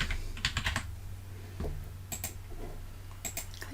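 A protein name, syntaxin 12, is typed into a search box on a computer keyboard: short clusters of crisp, close keystrokes separated by pauses, with no voices.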